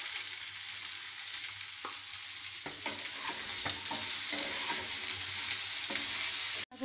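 Cauliflower and potatoes for gobi aloo masala frying in a pan, a steady close sizzle with several light scraping clicks from stirring, ending in a sharp knock.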